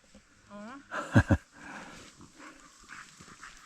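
Dogs out in a forest during mushroom picking: a couple of sharp, close barks or yelps in quick succession, with a whine-like sound just before and soft movement and rustling around them.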